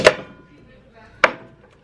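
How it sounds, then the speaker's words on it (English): A knife chops corn into thirds on a board while Jamaican chicken soup is being made. There are two sharp, close chops about a second apart, with a quiet pause between them. "I'm just chopping the corn into thirds,"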